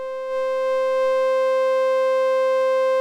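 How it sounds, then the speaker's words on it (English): Steady full-rectified sine tone from a Mutable Instruments Kinks modular utility module, pitched an octave above the base wave, a bright buzzy harmonic drone that swells in slightly at the start and then holds constant. "coming out of the full rectification output"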